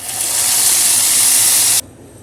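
Fried cashews and raisins in hot ghee poured into rice payasam make a loud, sustained hiss and sizzle that rises quickly, holds for almost two seconds, then cuts off abruptly into quiet.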